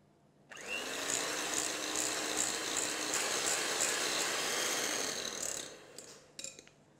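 An electric mixer beats cheesecake mixture until smooth, a continuous whirring motor drone that starts abruptly, runs steadily for several seconds, then cuts off and is followed by a few faint clinks.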